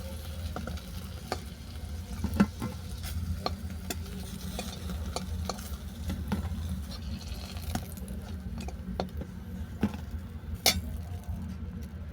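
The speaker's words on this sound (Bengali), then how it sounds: "পুরিগুলো উল্টে পাল্টে সব বাদামি করে ভাজা হয়ে গেছে" Coconut puris fry in hot oil with a steady, close sizzle, while a utensil stirs and clinks against the pan at irregular intervals.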